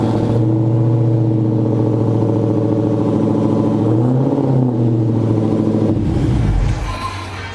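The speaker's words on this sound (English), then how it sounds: "This is what a cold start on a 2019 Hellcat Redeye sounds like." A 2019 Dodge Challenger Hellcat Redeye V8 roars through a cold start, its loud, deep idle rumbling steadily with a brief rise in pitch midway, then dropping off at the end, close by.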